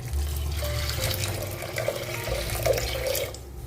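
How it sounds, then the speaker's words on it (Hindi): Water pours steadily into a pot of chana moong dal for a few seconds, a close splashing gurgle that tapers off at the end. "अभी इसमें पानी डालेंगे"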